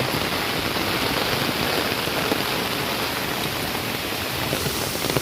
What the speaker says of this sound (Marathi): आणि पाऊस बघा आता जबरदस्त पडतोय